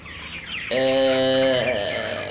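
Crowded flock of chickens packed into a small 4 by 5 metre room, with low background clucking, then a loud, close, drawn-out squawk that sustains for over a second.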